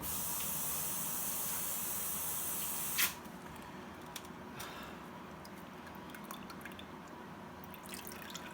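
Wild grape juice trickling through a fine strainer makes a steady, hissing patter, with a brief splash partway through and faint drips over a softer trickle afterward.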